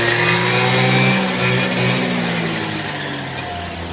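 Peugeot Speedfight scooter engine running steadily after a kickstart, a loud continuous mid-pitched hum that eases slightly toward the end, with no talk.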